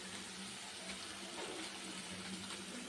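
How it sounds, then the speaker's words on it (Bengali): Bowl-rinsing water poured into a pan of fried spice masala with salt, turmeric and Kashmiri chilli powder, for an egg, cauliflower and potato curry; a steady, fairly quiet wash of pouring liquid throughout, with no talk. "মিক্সচারের বাটি ধোয়া জলটা দিয়ে দিলাম"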